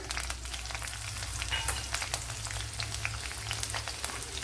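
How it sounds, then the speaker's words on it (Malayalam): Ten garlic cloves, two green chilies and a teaspoon of ginger fry in oil in a pan, producing a soft steady sizzle with scattered crackles and pops, nearby and moderately quiet. "ഇവിടെ കുറച്ച് ഓയിൽ ഒഴിച്ചു കൊടുത്തിട്ടുണ്ട് ഇതിലേക്ക് ഇനി ഒരു പത്തല്ലി വെളുത്തുള്ളി രണ്ട് പച്ചമുളക് ഒരു ടീസ്പൂൺ ഇഞ്ചി ഇത്രയും ചേർത്ത് കൊടുക്കാം"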